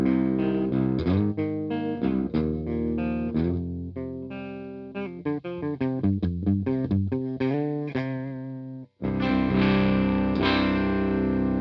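Electric guitar played dry before the EyeMaster pedal is switched on, a run of sustained distorted chords and quick single-note riffs, close and loud, ending in a long ringing strummed chord after a brief break.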